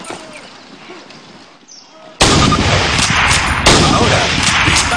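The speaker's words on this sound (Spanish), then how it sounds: "Coja un rifle Springfield de la mesa y cámbielo por la carabina. Gire a la izquierda, muévase hacia la valla y dispare 2 veces a su objetivo." Springfield rifle fire in Call of Duty on a training range, with a sharp loud shot cutting in about two seconds in and a second shot roughly a second and a half later, each ringing over noisy background.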